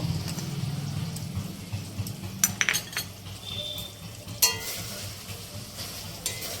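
Doi potol curry with a spoonful of sugar being stirred in a pan, soft simmering sizzle under a few scraping strokes and light clinks of a spoon against the metal, quiet and close.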